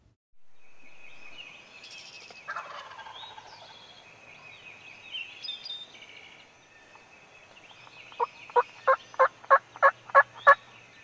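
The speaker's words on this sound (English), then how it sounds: "as dawn approaches, the tom begins to gobble from the roost" A wild turkey tom gobbles from its roost limb at dawn during spring, a run of about eight sharp, rapid, fairly close calls near the end after quieter earlier bird calls.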